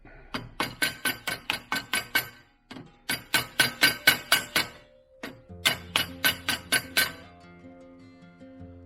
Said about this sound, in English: make sure one side's in, give it a little tap